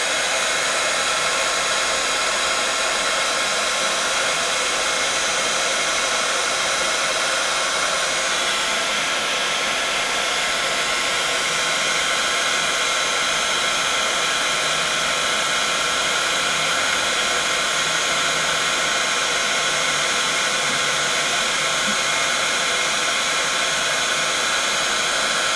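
A heat gun blows continuously at close range, drying embossing powder on a handmade paper butterfly; a loud, even hissing whoosh runs unbroken throughout.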